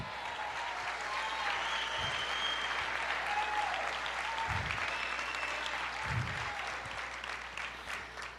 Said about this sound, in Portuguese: Aplauda mais